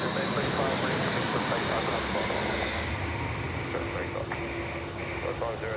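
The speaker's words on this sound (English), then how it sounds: "the last aircraft arriving into Sydney Airport tonight from Maroochydore, Jetstar 789. It is an A320" Jetstar A320 airliner arriving at Sydney Airport at night, a steady broad engine roar near and loud that eases slightly over several seconds, with voices talking over it.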